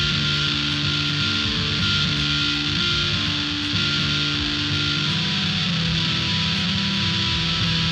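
Guitar strummed through a distortion VST plugin, producing a dense, loud, harsh saturated wash with a steady repeating strum rhythm running continuously, no voices.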